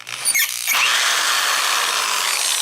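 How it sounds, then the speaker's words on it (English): A power drill bores a pin hole into an Arrow KIK six-pin lock cylinder, a steady, close, high-pitched whine that starts after a brief grinding onset and runs on with no pause. "Let's drill number 5."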